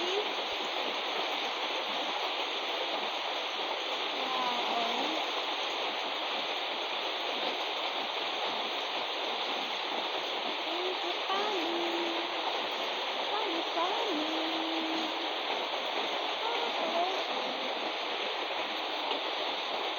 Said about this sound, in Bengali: অনেক বৃষ্টি হচ্ছে এই যে দেখেন কত বৃষ্টি